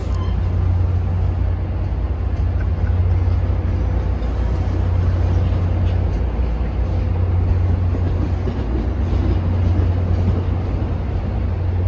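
A train sits idling at a Boston-area station before departing as train number 85 to Richmond Main Street, its steady low diesel rumble droning unbroken and loud throughout.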